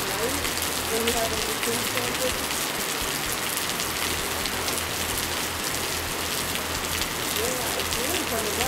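Steady, dense rain pattering on surfaces, a constant close hiss with no pauses, uniform in loudness throughout.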